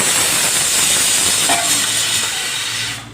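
Oil sizzles and hisses steadily in a pan while Tamil banana kootu is cooked, a loud, continuous close-up hiss that fades near the end.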